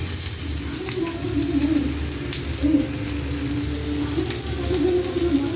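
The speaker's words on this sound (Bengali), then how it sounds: "এবার এগুলো ভাজা হবে" Prawns wrapped in bottle gourd leaves fry in a pan with a steady, close crackling sizzle that holds throughout, occasional bubbling pops rising over the constant hiss.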